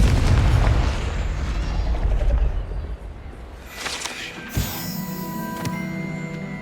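A Confringo explosive spell bursts in Hogwarts Legacy, a loud rumbling boom that decays into a low roar, followed by a sharp pop and lingering magical ringing tones.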